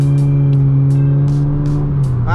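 Close, loud engine drone from a tuned Honda Jazz GK5 accelerating on a quiet road, holding a steady pitch before dropping and shifting near the end, with no talk.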